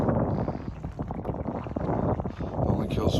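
A 5hp 82cc four-stroke air-cooled petrol outboard motor runs on a boat in open water, a steady close drone mixed with wind buffeting and water noise.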